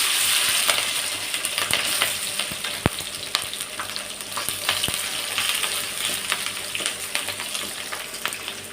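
Cumin, chopped onions and green chilies sizzle steadily in hot oil for a tomato and red chili curry, a continuous close frying hiss with occasional sharp pops and crackles, no voices.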